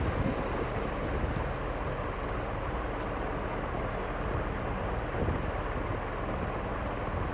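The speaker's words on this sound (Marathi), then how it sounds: "देवगाई बीच आहे हा" Surf at Devgad beach on the Konkan coast between two hills, a continuous loud roar of waves mixed with wind buffeting the microphone, with no voices.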